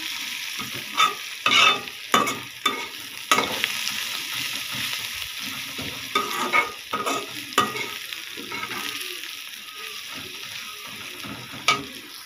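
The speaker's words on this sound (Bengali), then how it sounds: "আর একটু ভাজবো আমি পেঁয়াজটা" Onion fries with bay leaf, cinnamon, clove and cardamom in a pan, a steady sizzle broken by repeated sharp spatula scrapes and knocks as it is stirred, close by with no talking.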